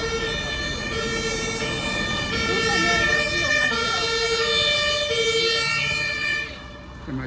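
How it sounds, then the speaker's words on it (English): Ambulance siren wailing on a Berlin street, loud and close with a steady repeating tone over traffic noise, fading slightly at the end. "Ambulance as usual."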